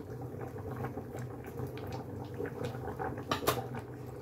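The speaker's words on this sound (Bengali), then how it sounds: "এদিকে ডালটা ফুটছে," Lentil dal bubbles in a pot, a soft continuous burble of small pops and gurgles, fairly quiet and close, with one brief louder splash near the end and no talking.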